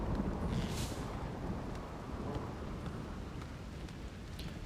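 Rain falling in the video game Rimworld, a steady, soft wash of rainfall with faint wind and no talking.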